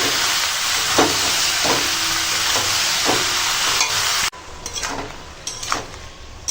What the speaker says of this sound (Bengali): এবার লাউটাকে চিংড়ির সঙ্গে কষিয়ে নেবো